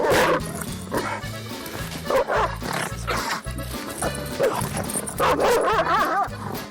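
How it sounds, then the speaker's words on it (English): A dog barks and yips in several loud, close bursts with short gaps between, some whimpering tones mixed in, heard alone without talk. "Yeah, it's a dog."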